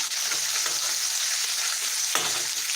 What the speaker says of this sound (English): because I'm cooking them in bacon grease